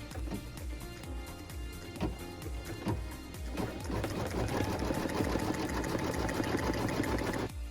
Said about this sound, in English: And then we're going to tack our fabric down.